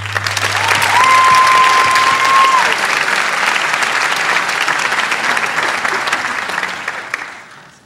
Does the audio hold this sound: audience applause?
yes